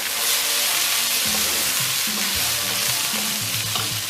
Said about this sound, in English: I'm now going to add my chopped fresh tomato. And you stir occasionally.